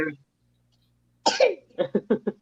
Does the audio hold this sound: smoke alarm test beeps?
no